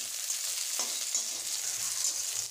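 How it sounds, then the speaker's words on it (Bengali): Sliced onions fry in oil in a wok over medium heat, giving a soft, steady hiss with faint scraping of stirring, quiet and without voices. "এখন একটু পেঁয়াজটাকে ভেজে নিচ্ছি।"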